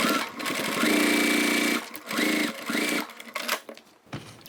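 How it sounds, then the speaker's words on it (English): Sewing machine top stitching along a bag strap for a toiletry bag, running in several steady bursts of mechanical whirring with brief pauses between runs, close and fairly loud. "Let's top stitch a little on the strap."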